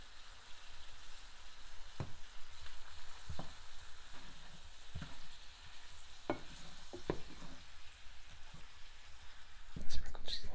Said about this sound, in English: Let's see how our ground beef is browning.